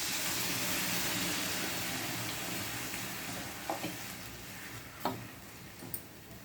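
Onion and potato mixture goes into a hot pan and sets up a steady, hissing sizzle, with a few small clicks and taps near the end. The sound is close and moderately loud, with no talking.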